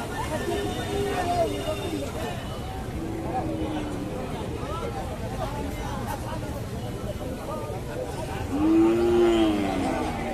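Cattle at a busy Bangladeshi livestock market before Eid al-Adha, with a cow's drawn-out moo rising near the end over constant crowd chatter and people talking nearby.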